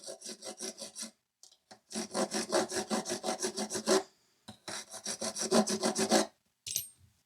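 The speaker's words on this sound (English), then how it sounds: "So I'm gonna come here with a file and just catch that corner" A hand file rasps across the corner of a titanium framelock folding knife part to chamfer it, quick rhythmic back-and-forth strokes in two close bursts separated by short pauses.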